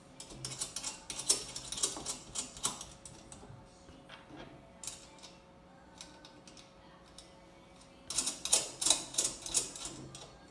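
A ratchet snugging synchronized adjusters, with bursts of rapid close clicking, a quieter pause in the middle, then another run of clicks, no talking.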